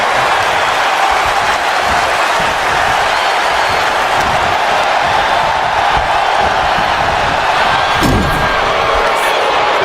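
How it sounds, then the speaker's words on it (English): A wrestling arena crowd roars continuously during a tag match, a loud, dense wall of cheering and noise with a sharp slam near the end. "Just listen to this crowd. Every one of them is on their feet."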